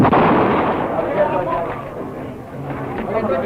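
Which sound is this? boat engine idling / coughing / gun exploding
gun exploding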